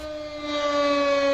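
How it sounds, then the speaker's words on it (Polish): A steady, wailing siren in a video game (MTA multiplayer) holds a sustained pitch and slowly swells louder, sounding like a distant civil defense alarm with no talking. "A jakaś syrena jest."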